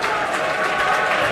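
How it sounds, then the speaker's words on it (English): Stadium crowd at a Harlequins rugby match roaring and applauding in a dense, continuous wash of cheering and clapping, loud and sustained with voices blended in. "Look at the crowd going crazy for Chris"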